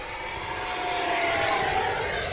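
An FMS Integral 80mm EDF RC jet at full throttle makes a steady, loud ducted-fan whine and roar that swells slightly as it passes, heard alone without talk.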